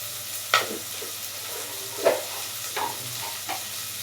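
A bay leaf drops into hot oil and sizzles softly and steadily, with a few separate clinks and scrapes of a utensil, close and fairly quiet.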